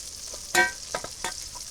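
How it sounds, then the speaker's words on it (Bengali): Eggplant slices fry in hot oil for a fish-and-eggplant meal, giving a steady close sizzle with a sharp crackling burst partway through and a few lighter spatters after. "এখন আমি বেগুন ভাজা উঠে নেই একদম লাল লাল করে ভাজছি"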